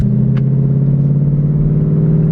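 A Ford Mustang engine idling steadily with a deep, throbbing rumble, loud and close, running continuously throughout with no speech.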